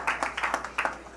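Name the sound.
audience applause at a partnership signing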